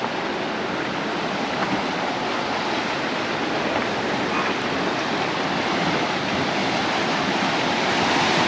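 Sea waves crash against the rocky shore at Portals Nous, Mallorca, making a continuous loud roaring wash of surf that holds steady throughout, with no voices.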